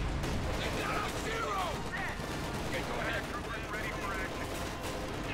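Cannon and tank gunfire from a Company of Heroes 2 World War II battle, with a Panther tank and an anti-tank gun, sounds as dense booms and rattling fire under steady excited commentary.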